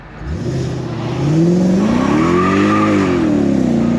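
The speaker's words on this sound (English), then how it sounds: "you'd probably rather listen to this supercharged V8 anyway" Supercharged V8 of a Mercedes AMG revs up close and loud, a deep rising engine roar that climbs, wavers and holds steady, with no talking over it.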